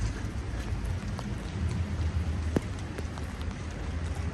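Steady rain hissing across the whole clip on a winter night walking tour in Regensburg, a dense broadband wash with occasional sharper drop ticks, fairly close and even in loudness.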